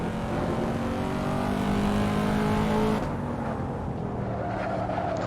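A Corvette C7 in the Assetto Corsa racing game holds a steady engine drone with tyre noise, then the tone shifts partway through as the car changes speed, loud and continuous with no talk.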